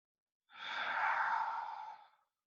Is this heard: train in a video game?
no